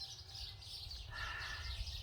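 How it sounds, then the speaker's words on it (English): Birds chirp faintly outdoors in the distance, thin tweets over a low rumbling background, with no voices. "Lots of birds."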